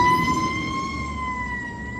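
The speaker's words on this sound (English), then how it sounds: "do I have to move over for the ambulance?" An ambulance siren sounds close by in traffic, a loud steady wailing tone that holds and drifts slightly in pitch over a low road rumble, with no talking.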